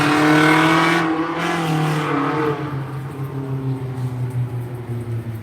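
A car with a loud muffler revs nearby, its deep exhaust note swelling and then settling into a throaty, pulsing idle rumble.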